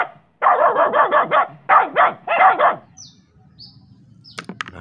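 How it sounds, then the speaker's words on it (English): A dog barks in rapid bursts, three close volleys with brief pauses between, loud and near, followed by a few faint high chirps and sharp clicks. "Wow, dog."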